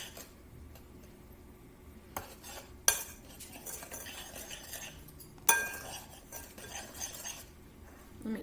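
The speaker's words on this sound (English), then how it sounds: "I'm just going to use the spoon that I had and just mix that together." A spoon stirs scone ingredients together in a mixing bowl, giving soft scraping and a few sharp clinks against the bowl's side, close up and alone, with no talking.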